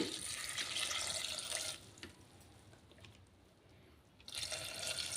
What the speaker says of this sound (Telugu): ఇందులోకి ఇప్పుడు 2 గ్లాసెస్ ఆఫ్ వాటరు యాడ్ చేద్దామండి